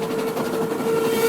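A train runs on its rails, a close, loud rolling rumble with rhythmic wheel clatter and a sustained tonal whine or horn-like note throughout, without any voices.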